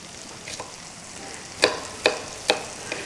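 Prawns frying in a hot pan for a prawn putt, with a soft steady sizzle and a few crisp stirring clatters spaced out near the end, and no talking.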